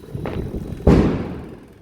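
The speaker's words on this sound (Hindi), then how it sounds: "तो अभी तक देख रहे हैं पटाखे छोड़ना शुरू कर दिए हैं लोग।" A Diwali firecracker goes off outside with one loud, booming thud that decays slowly, preceded by a fainter distant pop.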